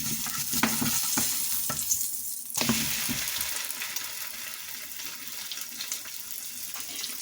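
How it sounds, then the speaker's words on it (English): Eggy bread French toast sizzling in a frying pan, a steady close hiss and crackle of frying with a couple of brief clatters early on, no talking. "So I'm just going to let it sizzle for a minute or two."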